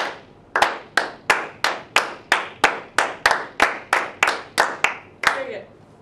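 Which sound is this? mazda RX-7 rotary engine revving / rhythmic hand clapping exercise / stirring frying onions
rhythmic hand clapping exercise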